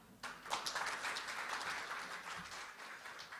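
An audience at a Korean corporate governance conference breaks into applause to welcome a National Assembly member to the stage, the clapping swelling quickly and then holding steady at a moderate level.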